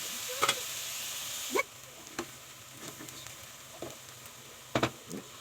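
White onions frying in oil for cabbage mahshi give a bright, steady sizzle that drops to a softer hiss after a moment, with a few sharp clicks of stirring in the pan.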